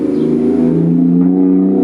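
A loud car passes close by with a steady engine hum that builds and fades slightly, heard alone without talking.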